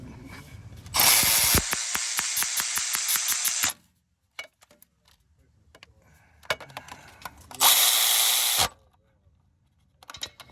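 Power tool driving in the bolts on a Cadillac CTS starter: two loud, steady whirring bursts with rapid clicking, the first about three seconds long and the second about one second, separated by quieter clinks and rustling.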